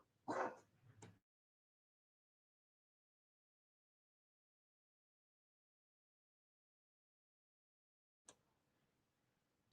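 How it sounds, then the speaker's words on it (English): A dog gives a short burst of barks at the start, then silence follows, with a faint rustle and click near the end. "I had to wait till Django was done a barking."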